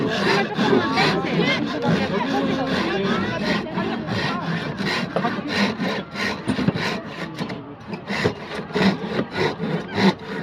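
A hand saw cuts through bamboo with steady, rhythmic rasping strokes at a Suwon Hwaseong festival craft session, while people chatter and a crowd murmurs in the background.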